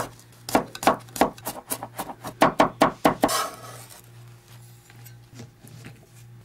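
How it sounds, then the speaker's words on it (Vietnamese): Quick rhythmic knife chops crushing and mincing garlic on a wooden board, about a dozen close sharp knocks, fading into quiet scraping and soft kitchen clatter. "Tỏi thì mình dùng khoảng 15g, đập dập và băm nhỏ ra luôn."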